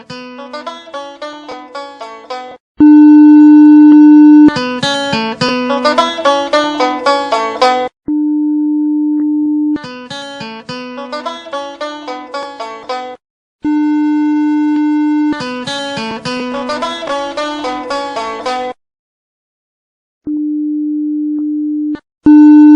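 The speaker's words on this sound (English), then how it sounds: "So we're going to play a tone" Steady test tones played back from cassette tape, sustained pure pitches alternating with bursts of dense harmonic guitar- or banjo-like twanging, separated by brief gaps; loud and clear with no voices.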